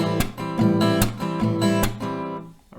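Acoustic guitar strummed in a steady down, up, clap, up pattern, chords ringing with sharp percussive hits recurring about every 0.4 seconds, close and fairly loud with no voices.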